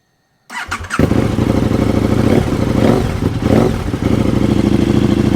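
A KTM motorcycle engine cranks and catches, then settles into a loud, steady idle with a couple of brief revs, close by.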